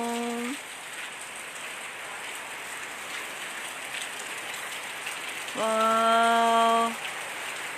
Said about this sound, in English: Could you hear the sounds of the rain?